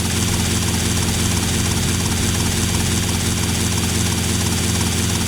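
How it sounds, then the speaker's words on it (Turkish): A helicopter in GTA Vice City (Tightened Vice mod), its rotor and engine making a loud, steady, close drone that holds unchanged without pauses, with no voices over it. "Ve indir helikopteri."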